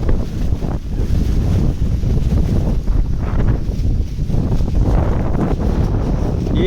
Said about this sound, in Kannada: ಫುಲ್ಲು ಗಾಳಿ ಹೊಡಿತೈತೆ